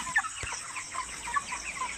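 Chickens cluck softly in a coop, a cluster of short, fairly quiet clucks and murmurs repeating in a loose rhythm against low background noise.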